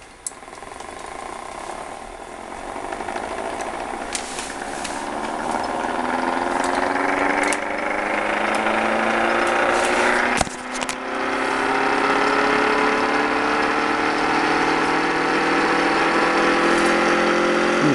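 A small homemade ORBO-style motor spins up, its whine rising steadily in pitch and growing louder over a bed of mechanical hum, with a brief click partway through before the tone settles into a high, singing drone.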